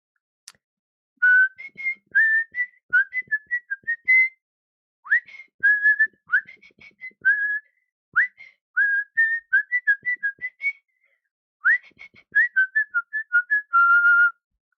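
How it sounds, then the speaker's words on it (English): High-pitched human whistling in a run of short, bright phrases with brief pauses between them, rising and falling in quick trills, close and loud with no talk over it. "It actually does help when you're whistling."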